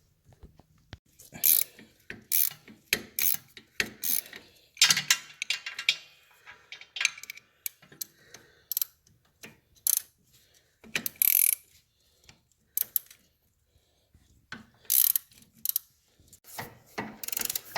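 A wrench working a front motor mount bolt loose on a 2002 Harley-Davidson Road Glide, giving a run of sharp ratcheting clicks and clanks in uneven bursts, close by and with no talk.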